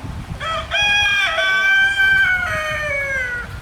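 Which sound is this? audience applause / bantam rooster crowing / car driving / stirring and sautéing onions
bantam rooster crowing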